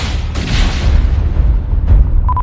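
A single heavy explosive blast from roughly 40 to 45 kg of explosives roars as a loud, sustained low rumble in news footage of a roadside bomb attack near Pulwama.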